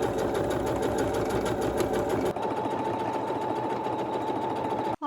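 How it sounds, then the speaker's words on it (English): Sewing machine stitching bands of Ankara wax print fabric with rickrack enclosed between them, a steady rapid needle chatter running throughout, close up, shifting to a lower hum partway through before a brief stop. "so let's now sew them together, enclosing the rickrack in the middle"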